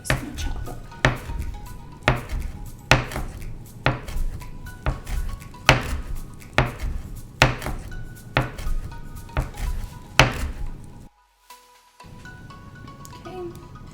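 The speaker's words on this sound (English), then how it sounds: "lastly our cilantro, which we are just gonna chop up" A knife chops cilantro on a cutting board in steady, evenly spaced thuds, close and fairly loud, then breaks off into a brief silence before faint kitchen sounds.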